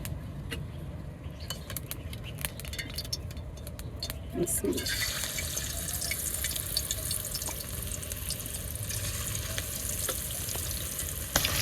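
Marinated chicken hits hot mustard oil, breaking into a loud, steady hiss of frying that swells after a few seconds of light clinks and stirring, then sizzles continuously and close.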